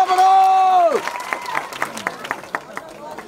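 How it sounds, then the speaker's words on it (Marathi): Audience at a stage event gives a short burst of scattered applause, claps spaced loosely after a sustained tone fades, moderately close and thinning out toward the end. "सर्वांना विनंती की टाळ्या वाजून आपण बाबूरावजींचं अभिनंदन करायचं आहे."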